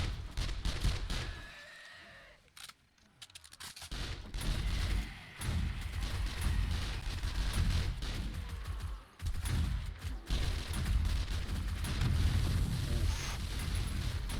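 Rocket launcher explosions in the video game 7 Days to Die, a series of booming blasts and rumbling impacts with debris clatter, loud and dense with short gaps between bursts.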